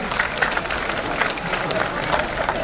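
A crowd at a live Hindi poetry recital (kavi sammelan) claps continuously, a dense, even wash of applause with faint murmuring throughout.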